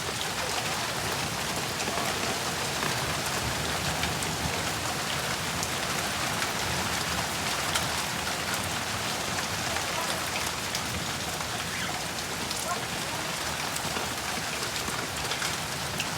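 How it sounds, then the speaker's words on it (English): Steady heavy rain pours down during a severe thunderstorm in Garretson, South Dakota, a dense, continuous hiss at even loudness throughout with no distinct thunder claps. "See, the rain's starting to let up."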